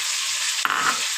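Chicken leg pieces with whole spices fry in a pan, giving a steady loud sizzle broken by a brief scrape as they are stirred.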